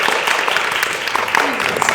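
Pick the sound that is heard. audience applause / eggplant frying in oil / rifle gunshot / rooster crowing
audience applause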